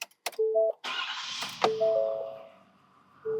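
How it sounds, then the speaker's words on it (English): A Ford F600 work truck's engine cranks and catches in a brief, close burst, bracketed by electronic chime tones and a dull thunk. "First step is we're going to start the engine."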